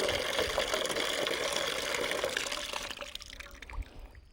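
Water poured to fill a drinking tray for birds during hot summer weather, a steady close trickling and splashing stream that gradually thins and fades toward the end, with no voices.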